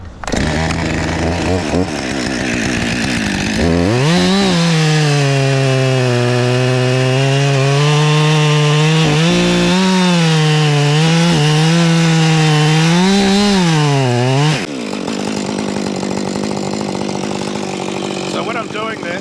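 Chainsaw cutting into a tree trunk during a felling cut, the engine revving up loud and steady for about ten seconds with a droning pitch, idling before and after.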